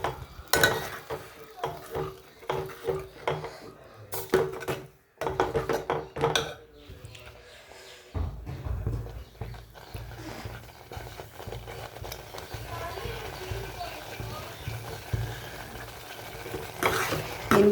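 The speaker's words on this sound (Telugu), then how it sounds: "బాగా కలుపుకోవాలి." Cooked dal with ponnaganti leaves stirred in a pan, village style: scraping and knocking of a spoon against metal in irregular bursts, then a softer continuous churning and rubbing, close and without talk.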